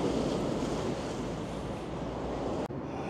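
Calm sea waves off the Blackpool shore wash in a steady, dense surf roar, with wind buffeting the microphone throughout before a sudden brief dip near the end.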